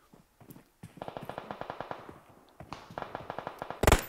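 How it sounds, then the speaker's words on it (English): Rapid gunfire crackles steadily through a battle royale video game match, with a sharp, louder blast right at the end that fits a grenade exploding. "Nade coming out."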